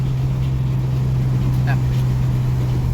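Pickup truck with a recurring chassis crossmember fault, driving on a road: a steady, loud low engine and drivetrain drone with constant vibration noise, continuous throughout, with a brief faint squeak near the middle.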